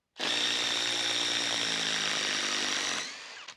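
A Ryobi PBLID02 cordless impact driver drives a fastener into timber in one continuous burst of about three seconds, a loud, high whirring buzz with rapid hammering that winds down at the end.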